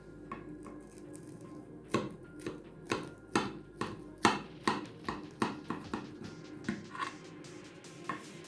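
A knife slices through a baked chicken breast dish of Armenian cuisine, making a run of about a dozen crisp, evenly spaced chopping taps on a board, close up and fairly quiet.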